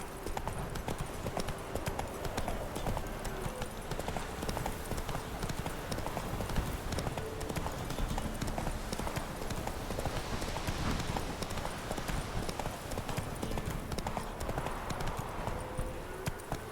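Roach, a horse in The Witcher 3, gallops in a steady rapid clip-clop of hooves throughout, the rhythmic beats fairly close and continuous over a faint game ambience, with a brief murmur of voices.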